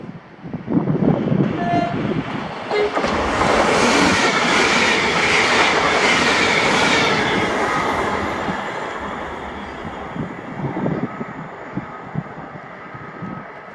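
A ScotRail Class 385 electric passenger train rushes past nearby at Magiscroft, a loud swelling roar with clattering wheels over the rails that slowly fades as it moves away.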